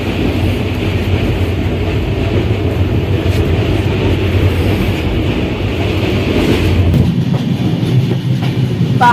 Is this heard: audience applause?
no